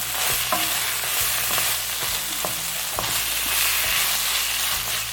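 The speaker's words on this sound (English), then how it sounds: "So we are just going to stir fry this for another 3 minutes." Carrots and green peas being stir-fried in a pan for a tuna pie filling: a dense, continuous sizzle with a spatula scraping and tossing in uneven strokes, close and loud, with no one speaking.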